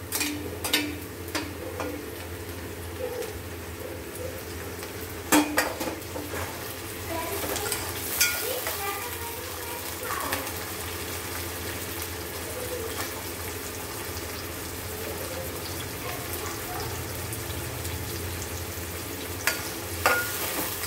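Onions and tomatoes fry in a pan for a fish curry, a steady soft sizzle with occasional stirring scrapes and clinks, close and without talk.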